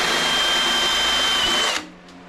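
Power drill boring a 1/4 inch hole on a bagged 1951 Ford rat rod, a loud close steady whine held for under two seconds before it cuts off abruptly, leaving faint room noise.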